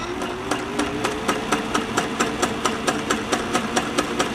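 A Singer 503A sewing machine stitches with a dual needle and two threads. A steady motor hum carries quick, evenly spaced mechanical ticks from the needle, running continuously and close up, with no talking.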